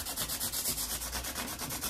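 Sandpaper rubs back and forth along the fretboard of a 1950s Musima Emperor guitar under restoration, a quick, even rhythm of soft rasping strokes, close and fairly quiet, with no talking.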